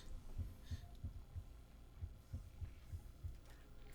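A heartbeat sound effect in a video game plays as quiet, low, regular thumps, about three per second, alone over a faint background hum.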